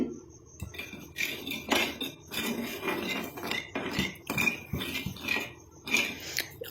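A utensil scrapes and clatters against a pan as oil heated on a low flame is stirred, in a run of uneven, fairly close strokes with no talking.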